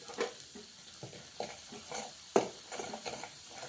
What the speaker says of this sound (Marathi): चांगला मसाला आपला भाजून घेऊया